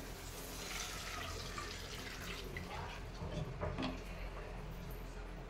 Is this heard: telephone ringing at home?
no